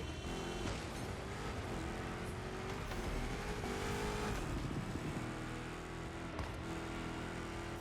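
An 1187-horsepower Dodge Hellcat in an iRacing game drones and revs continuously, with its engine pitch rising and falling through gear changes across the clip.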